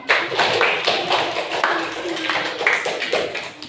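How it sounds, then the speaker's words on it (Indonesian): A group claps in a burst of applause, dense and lively, close by and sustained throughout. "Tepuk tangan buat kelompok 2."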